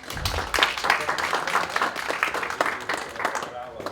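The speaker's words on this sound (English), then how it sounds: "Round of applause for Christoph." Audience applause follows a tech conference talk as a dense, lively burst of many hands clapping that holds steady for several seconds before tapering off at the end.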